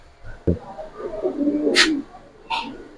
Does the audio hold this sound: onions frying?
no